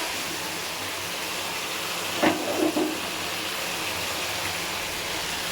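Spice masala sizzling and frying in oil for a fish curry, a steady loud hiss with a few faint clinks of a utensil partway through.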